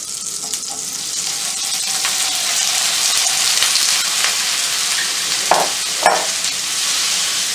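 Mussels sauté in melted butter in a pan, producing a steady loud sizzle with stirring scrapes and a couple of brief louder crackles, with no talk.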